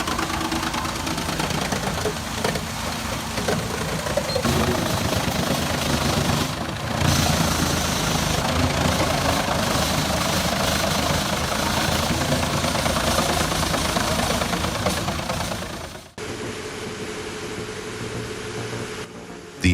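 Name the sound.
New Holland tractor running a wood chipper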